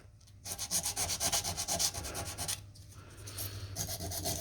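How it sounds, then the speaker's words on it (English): Emery cloth rubbing back and forth on a corroded battery terminal of a 2008 Pontiac Torrent, a quick rhythmic series of close, scratchy sanding strokes with a short pause in the middle. "a wire brush will do this eventually, but it's a lot quicker with emery cloth"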